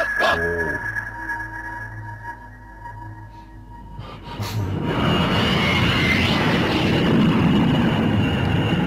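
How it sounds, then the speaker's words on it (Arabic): An airplane takes off in a cartoon. A rising tone and rattling lead into a loud, steady engine roar and rushing noise that fills the second half. "الطائرة تقلع الآن"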